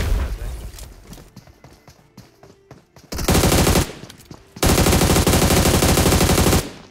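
Loud bursts of automatic gunfire from a mobile shooter game, a short volley then a longer sustained burst, with quieter game sounds between them.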